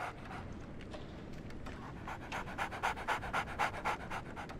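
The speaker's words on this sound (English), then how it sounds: "So, Barnes has a dog now." A dog panting in the video game Sherlock Holmes The Awakened, quick rhythmic breaths growing louder and more pronounced toward the end, close and alone without speech.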